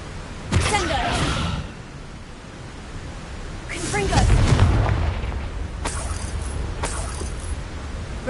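Spell explosions from the Confringo fire curse in the Hogwarts Legacy video game: several loud, sharp bursts with rumbling tails, spaced a few seconds apart, mixed with game sound and a voice calling out.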